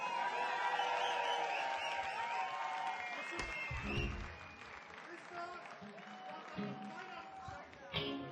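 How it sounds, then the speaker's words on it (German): An audience at a festive Christmas singalong applauds Steffi. Clapping and a few whoops swell after some voices and continue under further talk. "Mal einen Applaus für Steffi!"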